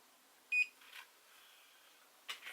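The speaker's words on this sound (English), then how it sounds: "You hear the little beep." A short electronic beep from an MKBOO automatic spiral hair curler, one clear tone near the start followed by softer clicks and a faint whir, quiet and close.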